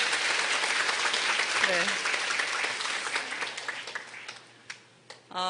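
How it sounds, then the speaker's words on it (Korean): Lecture hall audience clapping, a steady wash of applause that gradually thins and fades out, with a speaker's voice coming in near the end. "다시 한번 박수 부탁드립니다"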